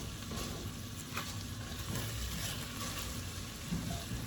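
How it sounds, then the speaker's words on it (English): Onions and garlic sizzle steadily in a pan as they cook down for chili, a continuous crackling hiss with soft popping, alone and fairly quiet throughout. "Letting the onions cook down."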